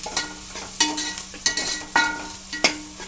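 A spoon stirs chopped tomatoes frying in a pan for a beans and tomato curry, a sharp scrape every half second or so over a steady soft sizzle, close up with no talk.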